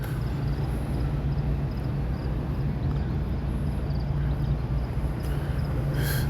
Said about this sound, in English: if you hear in the background, there's trucks and vehicles driving left and right